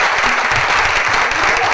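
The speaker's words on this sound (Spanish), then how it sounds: "vamos a darle el aplauso" Loud, steady applause from a conference audience filling a hall, continuous dense clapping with no gaps throughout.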